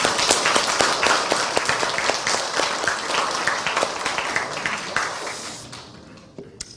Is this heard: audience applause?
yes